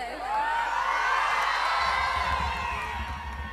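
A crowd cheers and whoops at a nighttime Garba festival in Shanti Nagar, Thane: a sustained, loud wall of high-pitched shouting, with a low drumbeat joining in partway through.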